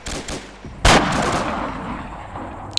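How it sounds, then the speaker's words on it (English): Automatic machine gun fire in the military shooter ARMA 2, heard as a sharp loud burst followed by a long rolling echo, with softer distant shots before it and a small click at the end. "Whoever was firing that MG"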